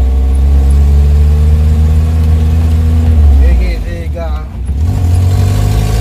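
Engine of a 1979 Colt T120 pulling up a long steep hill, a loud steady low drone that shifts pitch midway as the gear changes, then settles again.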